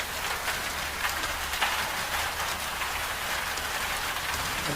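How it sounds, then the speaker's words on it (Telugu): Heavy rain pouring steadily, a dense continuous hiss of drops on surfaces, close and even in loudness throughout, with no voices. "ఇంత వాన దంపుతుంది"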